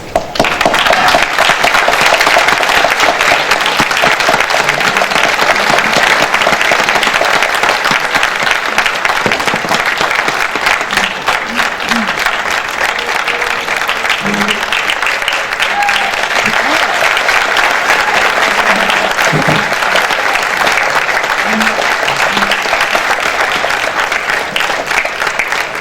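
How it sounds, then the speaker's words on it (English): Loud, sustained applause from a gala audience at a Portuguese church's centennial celebration, honoring standing volunteers; a thick, unbroken roar of clapping lasting nearly half a minute with occasional cheers and voices mixed in. "as we give you a round of applause"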